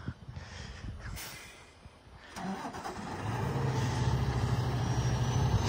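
A snow-covered end dump truck's engine runs in the open after a record Mammoth snowfall, a steady low rumble that grows louder and fuller partway through and holds, with no talk over it.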